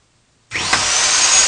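An electric drill lying on the floor, switched on by a circuit triggered through a phone call, starts abruptly after a moment of silence and keeps whirring steadily and loudly nearby.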